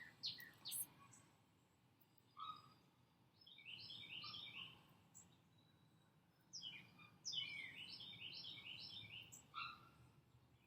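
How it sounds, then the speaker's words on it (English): Several birds chirp and trill in the morning outside a house, with bright bursts of rapid twittering calls coming in clusters over a quiet background, fairly faint and moderately near. "I wanted you to hear all of the birds that are chirping"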